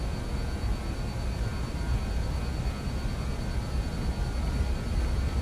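Avro RJ85 jet engines spooling to takeoff thrust in a flight simulator: a steady, loud, broadband roar with a faint high whine, unchanging throughout.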